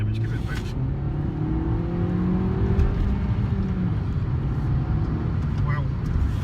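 A new Suzuki Swift Sport accelerating on a national speed limit road, its engine note rising in pitch over steady road and wind roar heard from inside the car.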